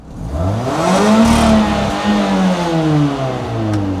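A car engine revs up and down repeatedly through an exhaust made from a rain gutter, its note rising and falling in pitch, loud and close, with no talking.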